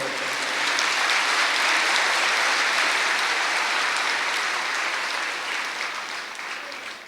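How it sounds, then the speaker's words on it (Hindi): Seated audience at a spiritual gathering giving a full, sustained round of clapping in thanks, loud and even throughout before slowly thinning toward the end. "बाबा का शुक्रिया करने के लिए आप बाबा को याद करके ज़रा ताली बजाओ"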